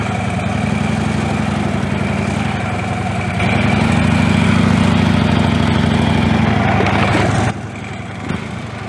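A motorcycle engine runs steadily while a rider makes slow U-turns through a cone exercise, a loud, continuous mid-low drone that swells louder in the middle as the throttle opens, then drops back near the end.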